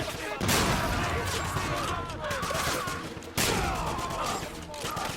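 Kar 98K rifle fire in the shooter Wolfenstein (2009), dense gunfire and combat noise filling the whole stretch, loud and continuous with a sharp shot near the middle and game sounds churning underneath.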